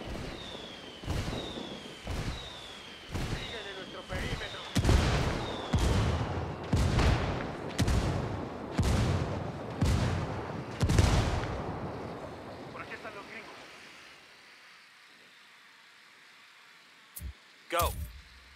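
Mortar fire in the video game Ghost Recon Wildlands: a steady series of about a dozen heavy booming impacts at regular intervals, each preceded by a whistling tone, fading out before a couple of brief sharp sounds at the end.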